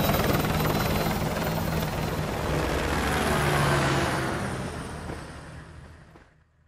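Helicopter from the Call of Duty Modern Warfare 2 campaign, a steady loud rotor roar with engine whine and a throbbing low pulse, holding for several seconds before fading away toward the end, with no talking.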